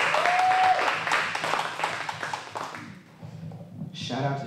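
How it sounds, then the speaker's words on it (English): A crowd applauds performers at a music and poetry session on the West Side, clapping loudly at first and then thinning out, with voices mixed in and a brief whoop near the end. "Give a round of applause for all the performers so far."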